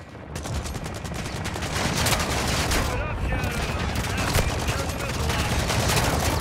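Gunfire in a Warzone video game match during a Shadow Siege event, with dense, continuous bursts of automatic shots and booms crackling loudly throughout, and a player talking over the barrage.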